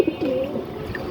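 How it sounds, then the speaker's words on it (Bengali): Caged pigeons give a short, soft cooing call, close and low-pitched, over a murmur of background noise in a brief moment. "বড় খাঁচার কবুতর"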